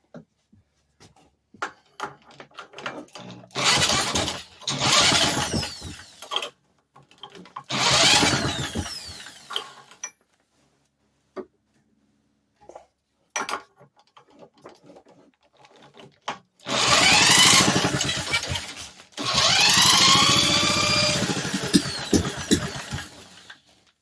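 A vintage Briggs and Stratton small engine is started with a little gas and hand choke, giving loud bursts of rough, rattling running that cut out between attempts, then a longer stretch near the end.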